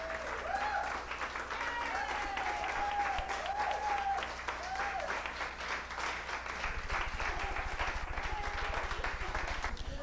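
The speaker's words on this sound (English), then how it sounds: "Let's give a big round of applause for our Spotlight dancers" Audience applause for dance performers fills the whole stretch, steady dense clapping with some crowd noise and faint voices mixed in.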